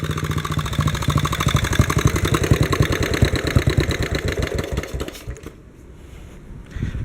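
A WW2-era BMW R35 motorcycle engine fitted with a Bing carburetor idles fast and steady with a rapid, even putter close by, then dips and quiets briefly near the end before picking back up.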